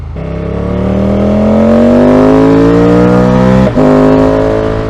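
A car engine revs steadily upward past 2,000 RPM, loud and close, its rising drone briefly dipping near the end before pulling on again.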